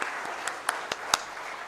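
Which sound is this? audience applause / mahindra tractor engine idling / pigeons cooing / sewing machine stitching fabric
audience applause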